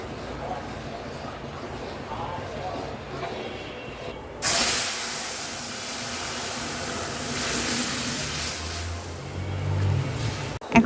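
Dal with chalta and green chillies cooks in a pot over the flame; after a quiet start, a loud, steady broadband hiss sets in and holds, with a low rumble and a clatter near the end.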